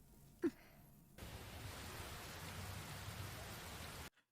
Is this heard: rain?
yes